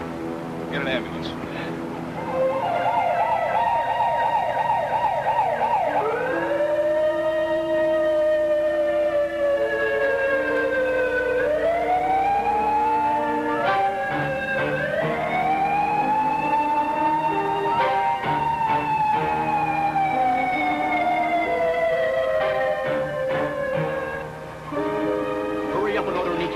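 An ambulance siren wails in a movie scene, its loud, continuous rising and falling sweeps repeating steadily close by.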